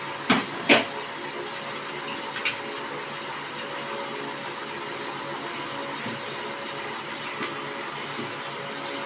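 Rohu or catla fish frying in a pan in a home kitchen: a steady, fairly quiet hiss of oil sizzling throughout, with a few sharp pops and clinks near the start.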